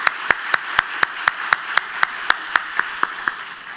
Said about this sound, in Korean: 다시 한번 우리의 박수 주시면 고맙겠습니다